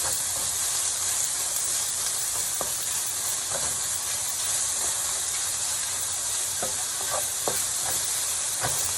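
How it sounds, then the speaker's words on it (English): Bacon sizzling in sesame oil in a hot pan, a steady loud broad hiss throughout with occasional faint pops and scrapes, no talk. "I'm just going to put all the bacon in there. And we're going to let this cook."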